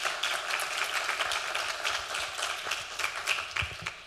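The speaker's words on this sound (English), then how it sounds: "So I'm going to ask you all to please give them all a round of applause." Open-house crowd at the Schomburg Center applauds staff and the center's director, a moderate wash of many hands clapping steadily, with a few sharper claps standing out near the end.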